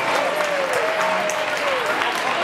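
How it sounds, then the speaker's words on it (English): An audience at a school winter holiday concert claps in a dense, continuous burst of applause that stays loud throughout, with a faint voice underneath. "let's give a big round of applause before we even start to all these kids"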